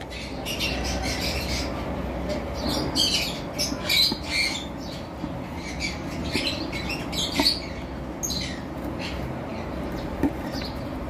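Green Fischer opaline lovebirds squawking and chirping in a busy aviary, with many sharp overlapping calls repeating over a steady background hum.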